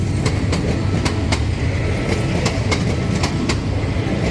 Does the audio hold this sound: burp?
no